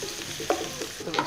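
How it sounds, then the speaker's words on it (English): Chopped onions hitting hot oil in a pan for a keto egg roll in a bowl, sizzling steadily with scraping stir strokes and a few sharper clatters, close and fairly loud, with no talking. "let's dump the onions and stuff in."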